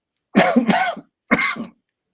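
Two close, harsh coughs, the first a double hack and the second a single shorter one after a brief pause, with silence around them.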